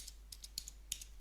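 Faint, sparse keystrokes on a computer keyboard while entering an injection quantity label in WinOLS tuning software, a handful of soft separate taps with short pauses between them.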